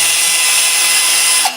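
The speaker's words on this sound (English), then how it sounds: "and even this drill" An electric drill whirs steadily at high speed for about a second and a half, loud and close, then cuts off abruptly near the end, with no talking.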